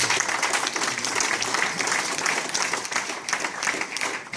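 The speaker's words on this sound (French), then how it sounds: "On peut les applaudir parce qu'ils se sont bien battus." Audience applause at a political meeting in Avignon, a dense, steady wash of many hands clapping throughout, loud and continuous with no speech over it.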